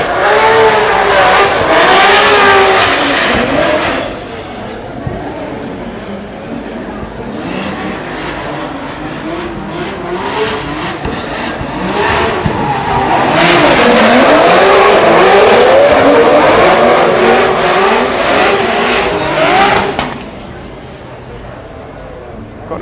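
A drift car engine revs hard and fluctuates as tires squeal through a long drift during a Drift Masters practice session in Ireland, loud and close, with a commentator talking over it.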